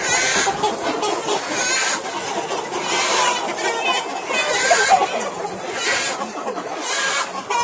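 A large flock of Cao Khanh chickens, some three thousand birds on a farm, clucks and squawks continuously in a dense, close chorus while being caught for sale, with faint human voices mixed into the steady din.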